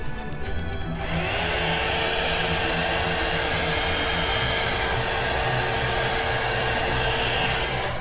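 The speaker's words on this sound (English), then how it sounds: "I'm going to use a blow dryer on it" A blow dryer roars on loud and close over wet acrylic pour paint, a steady high whirring blast that holds constant after a brief moment of quieter noise.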